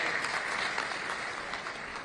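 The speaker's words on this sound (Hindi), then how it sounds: "जोरदार ताली से स्वागत करें" Crowd clapping to welcome guests at the opening of a national farmers' fair and agricultural exhibition, a faint, even patter of many hands heard from a distance.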